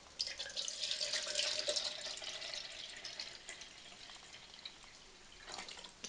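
Water being poured into a container for a homemade fly repellent, a faint steady trickling splash that is strongest early and tapers off, with a small splash near the end.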